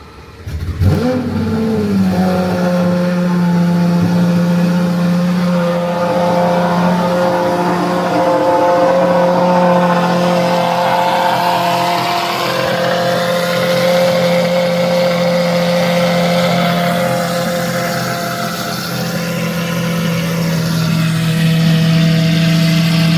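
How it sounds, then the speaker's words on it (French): A Lamborghini Aventador SVJ engine fires up on a cold start with a sharp burst, then holds a loud, steady high idle with revving, rumbling continuously up close without any talking. "Donc cold start de SVJ, voilà comment ça fonctionne."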